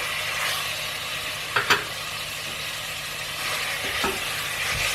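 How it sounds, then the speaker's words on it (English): Mushrooms and beef sizzle steadily in a stew pot with a constant hiss, broken by a couple of soft clinks of a spoon stirring. "can hear it sizzling already"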